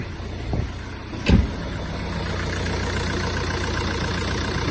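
A Ford Mondeo Mk4 diesel engine with a faulty dual-mass flywheel idles with a steady low rumble and shaky vibration, with a couple of brief knocks early on, close by.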